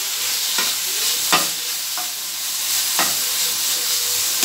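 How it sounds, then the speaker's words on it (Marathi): Potato sabzi is stirred with salt in a frying pan, giving a steady close sizzle broken by about five sharp scraping strokes of the spoon, with no voices. "मीठ पण आपल्याला चांगलं हलवून घ्यायचंय"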